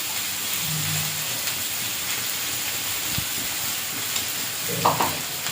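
Ridge gourd and potato frying with cumin paste in a pan gives a steady, fairly loud sizzle and hiss, with a few stirring scrapes and a brief clatter near the end, and no voices.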